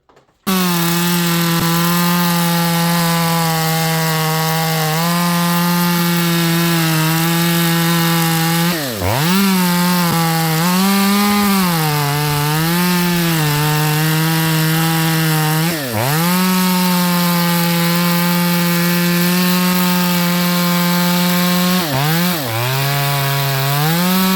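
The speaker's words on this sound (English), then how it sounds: "I made some test cuts with this saw last week." A Stihl MS200T chainsaw with a faulty carburetor runs loud and close, revving high through test cuts in wood. Its pitch dips sharply a few times as the chain bogs into the cut.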